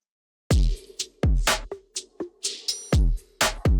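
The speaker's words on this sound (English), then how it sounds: "Later in production, I added in these drums that sound like this." A sampled drum loop from a sample library plays alone: punchy kicks, snappy snares and crisp hits in a steady pattern, loud and close with short decays.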